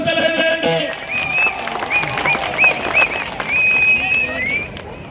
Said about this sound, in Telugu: గట్టిగా చప్పట్లు కొట్టి నిరసన తెలియజేయండి.